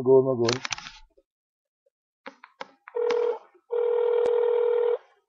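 A telephone being dialled to place a call, with a few short key tones, then ringback tones in two longer bursts, near and clear after a brief voice at the start.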